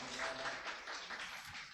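Audience applause at the close of a lecture forum on philosophy and the humanities, a steady wash of many hands clapping at moderate, distant level for a couple of seconds with no voices.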